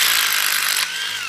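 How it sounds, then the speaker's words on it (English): A power drill boring a 16mm hole, 50mm deep, into a masonry substrate for a stone pin anchor: a loud, steady high-pitched grinding whine that drops slightly in pitch near the end. "First you drill a 16mm"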